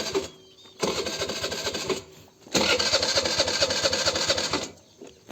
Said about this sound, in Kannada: ಪೆಟ್ರೋಲು ಖಾಲಿ ಆಗ್ಬಿಟ್ಟೈತೆ ಇವಾಗ ಸ್ಟಾರ್ಟ್ ಆಗಲ್ಲ ಗಾಡಿ